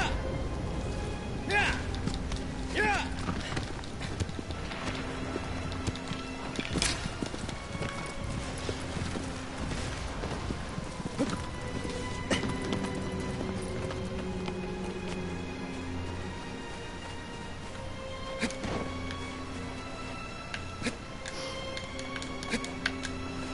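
Horse hooves clip-clopping in Shadow of the Colossus, a steady rhythmic trot with game music and a voice talking over it.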